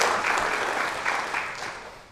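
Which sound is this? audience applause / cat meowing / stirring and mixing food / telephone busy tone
audience applause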